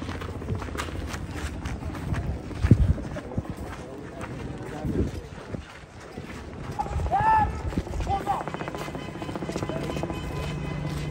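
Horses walk nearby, their hooves clopping in an uneven, intermittent rhythm, while people talk close by.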